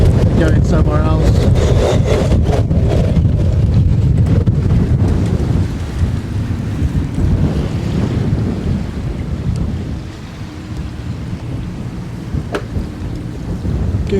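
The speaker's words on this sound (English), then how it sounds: "I noticed it's quite windy" Strong gusting wind of about 50 knots roars across a sailboat anchored off Paros, Greece, buffeting the microphone loudly at first and easing somewhat partway through.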